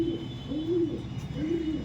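Pigeons kept for flying, including a hen, give soft rolling coos in three repeated phrases, close and moderately loud over faint background noise.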